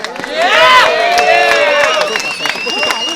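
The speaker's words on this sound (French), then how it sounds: "faites du bruit pour Zach" Excited voices in the audience shout and cheer with some clapping, a lively crowd roar continuing throughout.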